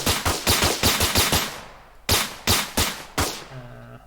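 Rapid automatic gunfire with recoil in an Unreal Engine 5 multiplayer third-person shooter game, a loud, close burst of evenly spaced shots, a short pause, then several more spaced shots.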